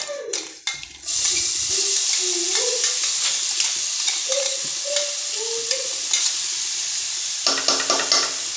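Green chili thecha frying in hot oil with cumin and mustard seeds, a steady broadband sizzle with scraping stir strokes, loud and close, running alone without voices.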